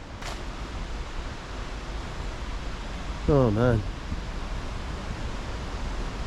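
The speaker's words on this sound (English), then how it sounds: "I can hear a thunderous waterfall." A thunderous waterfall at The Hermitage pours over rocks into foamy water below, a steady loud broadband roar filling the whole clip, with a brief spoken exclamation near the middle.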